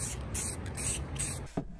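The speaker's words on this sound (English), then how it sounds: "Guess I'll spray it again on this side." Short hissing bursts of spray paint applied to a Mares Genius dive computer, four quick close puffs in a row followed by a faint clack.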